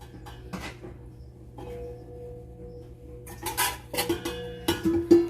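A large mixing bowl being handled in a home kitchen: quiet hum at first, then a cluster of clattering knocks and clinks of dishware toward the end, close by.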